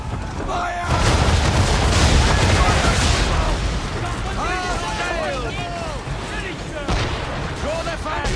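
Cannon fire from British gunboats in a naval battle in Assassin's Creed III, heavy booming blasts rolling over loud continuous battle noise, with shouting voices and game music mixed in throughout.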